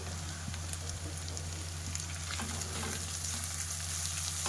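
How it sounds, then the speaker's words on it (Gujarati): Chopped tindora (ivy gourd) frying in a pan, a soft continuous sizzle with light crackles and occasional stirring scrapes, close but fairly quiet, no voices. "હવે આપણે તેની અંદર સમારેલા ટિંડોળા ઉમેરી દઈશું"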